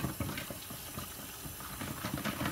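Water runs steadily from a tap for hand washing, a soft continuous splashing rush, close and alone.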